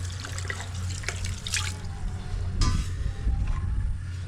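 Tap water running steadily into a cooking pot in a farm kitchen, a continuous close splashing stream with a low hum beneath and a few brief clatters.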